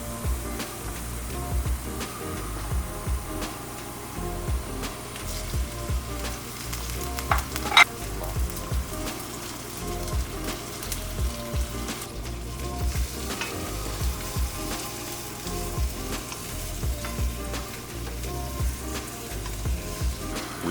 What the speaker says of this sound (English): give it a mix and we add the squid and the prawns.